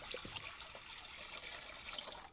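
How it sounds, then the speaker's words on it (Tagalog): Three cups of water pour into a large pan set on a stove for making tamarind candy, a steady soft splashing trickle that runs continuously, quiet and close, with no speech. "buhusan natin ng 3 cups ng tubig."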